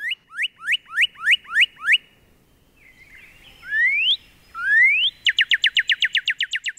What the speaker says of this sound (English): I hope you were thinking, cardinal.